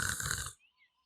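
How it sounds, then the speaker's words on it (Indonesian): A cartoon character in a horror animation lets out a single loud, rough snoring snort that stops abruptly and leaves near silence. "Buset dia malah ikutan ngorok di luar."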